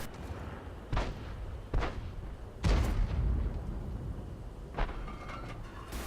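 Tank cannon fire from a Panzer IV battle in War Thunder: four sharp booming shots at irregular intervals over a steady low battle rumble, fairly loud and without voices.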